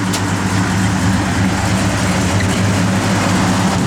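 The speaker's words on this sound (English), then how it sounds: "Got a great sound to it." A 1969 Ford Torino Cobra with a 500-lift camshaft idles steadily close by, a deep, loping rumble that holds loud and even throughout with no one talking over it.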